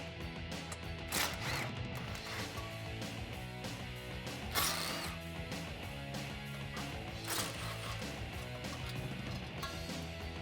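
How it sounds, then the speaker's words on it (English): A ratchet turns an 8 mm socket to remove dust shield bolts on a 2004-2013 Ford F150, clicking steadily at close range. Metallic clanks and handling noises come and go throughout. "Now we're gonna switch back over to the 8 millimeter socket and get our dust shield out of the way"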